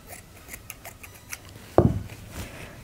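Scissors snip through chunky yarn at the end of a hand-crocheted blanket, a single close, crisp cut standing out against a quiet background.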